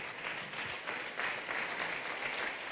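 A church congregation applauds together in sustained, dense clapping that fills the room evenly for a few seconds, with faint voices underneath, during an annual pastors' retreat.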